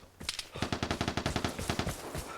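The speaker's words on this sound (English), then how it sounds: "So somebody's up there with what sounds like an L85." L85 rifle gunfire in the online shooter Vigor, a rapid automatic burst of about twenty shots in two seconds, fairly faint and somewhat distant, with no talking.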